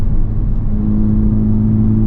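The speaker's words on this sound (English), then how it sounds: "You can hear the exhaust kick up a little bit." A 2023 Honda Civic Type R engine and exhaust in sport mode rumble loudly and steadily with a deep, sustained drone, heard close up without any talking.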